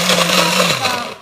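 A blender whirs steadily, mixing a cherry mash milkshake, with a loud constant motor drone that starts to drop in pitch as it winds down near the end.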